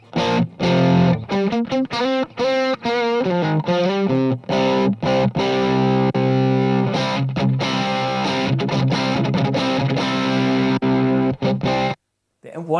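Electric guitar played through the vintage channel of an AMPX Amp 1, a loud, continuous distorted tone with strummed chords and sustained notes that stops abruptly near the end.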